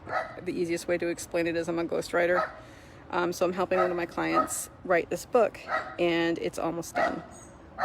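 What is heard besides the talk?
neighbour's dog barking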